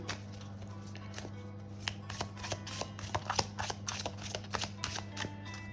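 Tarot oracle card deck shuffled by hand, soft papery riffles and flicks in quick irregular bursts, close and quiet over a low steady electrical hum.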